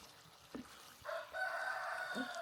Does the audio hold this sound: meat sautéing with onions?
no